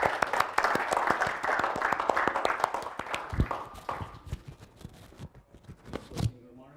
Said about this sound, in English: Let's give a big round of applause to the organizers for running such a nice workshop.